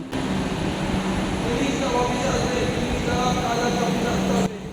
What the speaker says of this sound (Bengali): আমাদের ট্রেন প্ল্যাটফর্মে ঢুকছে একেবারেই রাইট টাইমে আসছে